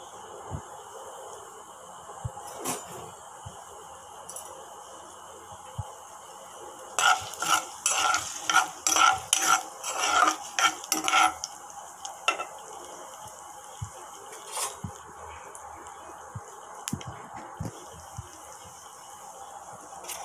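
Mustard seeds, curry leaves and dry chillies hit hot oil in a kadai, a quiet background hiss that flares into a dense burst of popping and crackling in the middle before settling back to faint sizzling.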